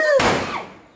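A single firecracker bursts during Vishu festivities, a sharp loud bang cutting in after a brief whistling tone, then a crackling decay fading over under a second.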